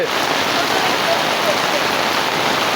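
Relentless downpour in a rural village under a darkening sky, steady loud hiss of drops striking surfaces throughout, with no speech over it.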